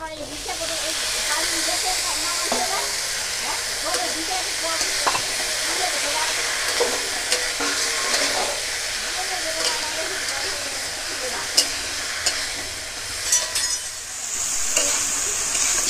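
Shapla water lily stems go into a pan of fried spices and sizzle steadily, with scattered clinks and scrapes of a spatula stirring throughout; a voice can be heard faintly now and then.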